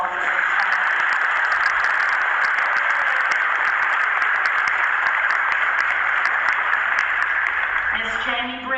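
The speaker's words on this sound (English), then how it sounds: "Please give him a round of applause at this time." A crowd at a school Veterans Day program applauds steadily, a dense wash of clapping that continues for several seconds before a voice begins to speak at the end.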